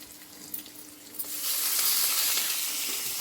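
Curry leaves drop into hot oil and a sudden fizzing sizzle starts after about a second, rising to a steady, close crackle that fills the rest of the clip, with no talking.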